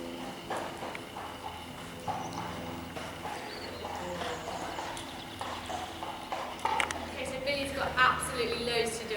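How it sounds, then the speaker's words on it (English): A horse walks past with hooves clopping in an irregular outdoor rhythm, growing a little louder toward the end over a soft background. "Another horse has just walked past."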